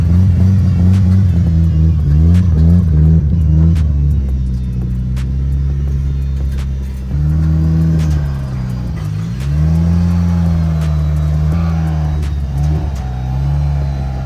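Nissan 180SX engine rumbling and revving close by as the car is driven up onto a trailer, steady low drone with a few throttle blips and pitch swells, no talking.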